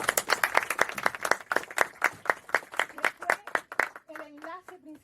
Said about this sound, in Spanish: y démosles un aplauso